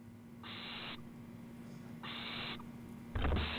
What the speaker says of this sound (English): And then this is the mommy owl coming back?